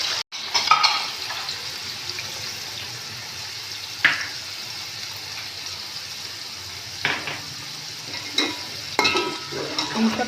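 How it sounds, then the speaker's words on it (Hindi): Vegetables with carrots and potatoes fry in a pan with a constant soft sizzle, broken by occasional clinks and scrapes of a utensil stirring against the pan. "अब इसको हम फ्राई कर लेंगे, हल्का सा फ्राई करना है बस।"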